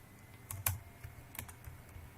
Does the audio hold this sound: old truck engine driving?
no